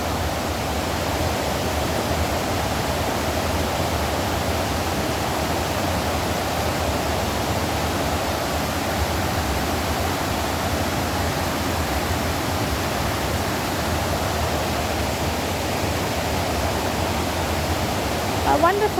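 River water rushes steadily down through the hills toward the sea by the Averon, a loud, continuous broadband roar like a waterfall that holds unbroken for the whole stretch with no talking over it.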